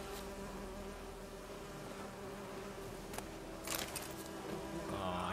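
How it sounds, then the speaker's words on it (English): Bees buzz in Witcher 3, a steady insect drone running throughout at moderate level, with a brighter burst of game ambience and clatter near the end and no speech. "Ooh, bees. Give me the bees."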